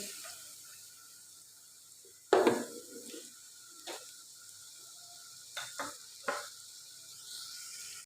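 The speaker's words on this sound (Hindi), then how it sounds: "और इस प्याज को लाइट ब्राउन करेंगे।" A quiet, steady sizzle of onions frying in a pan, broken by a few clatters and scrapes of stirring.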